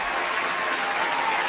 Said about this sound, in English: Let me give you another round of applause.